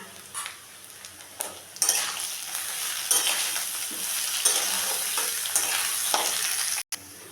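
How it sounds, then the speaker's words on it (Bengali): Rice and lentils for khichuri fry in a pot under a steady sizzle, with repeated close scraping stirs and an occasional clink of the spoon, quiet and continuous until a sudden brief cut near the end. "এখন আমি ডালটা দিয়ে দেব, দিয়ে আরও কিছুক্ষণ আমি ভেজে নেব"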